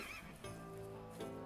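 A horse whinnies in the ranch-life video game The Ranch of Rivershine, a fairly faint, wavering neigh rising and falling over soft game background sound, with no talking.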